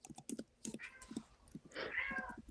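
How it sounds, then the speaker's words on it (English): A cat meows repeatedly at a closed door, with a long drawn-out meow building near the end, while keyboard typing clicks and taps along in the background. "So that's why he's like meow meow meow."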